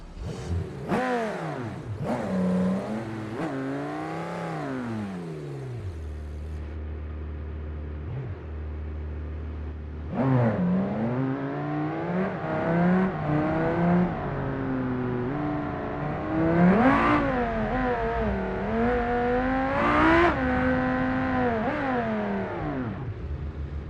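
A cold race car engine in BeamNG revs repeatedly, each rising and falling whine climbing sharply then dropping back to a low, lumpy idle, with harsher, louder revs toward the end and no talking.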